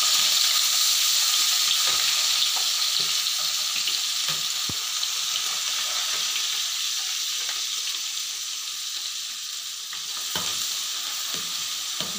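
Green onion sizzles in hot oil in a pan for a Kathiyawadi vegetable dish, a steady bright frying hiss with a few soft stirring clicks and scrapes.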